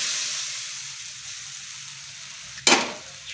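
Papaya, potato and masoor dal sizzle in a pan after a cumin and dried red chilli tempering: a steady soft hiss, then a sudden loud burst of sizzling near the end that fades back down.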